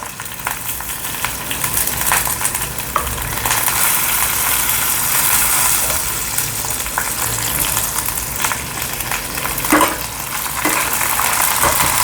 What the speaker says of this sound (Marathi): ह्या पण मिरच्या छान तळल्या गेल्यात